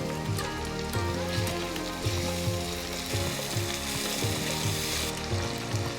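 Onion and round tomato slices fry in hot oil for a fish kuzhambu, a steady bright sizzle running throughout beneath louder background music with a rhythmic beat.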